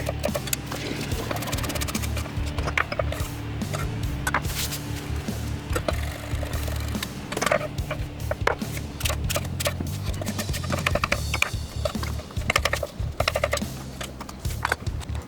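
A Chop-O-Matic manual food chopper dices apples and shallot for a chorizo and pumpkin risotto, producing a steady stream of rapid clattering plastic clicks and blade chops, close and busy, with no talking.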